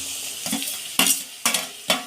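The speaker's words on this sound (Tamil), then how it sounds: "தக்காளி வெங்காயம் நல்லா வதங்கிடுச்சு" Onions and tomatoes sauté in a pan for a fish curry, a soft continuous sizzle broken by four sharp scraping stirs of a spatula against the metal, close and alone without voices.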